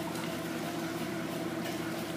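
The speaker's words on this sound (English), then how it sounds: "Right now we are in spin mode. Spinning out the rest of the water." Kenmore washing machine in its spin cycle spinning out the remaining water, a steady soft whirring hum with a faint watery churn, unbroken and without talk.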